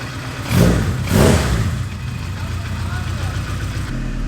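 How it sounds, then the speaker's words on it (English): A high-compression Honda K-series engine in a Nissan S13 revs twice through a titanium exhaust, two sharp close blips followed by a steady idle, with people talking over it. "When you put a titanium exhaust on a Honda engine, it sounds like a Honda."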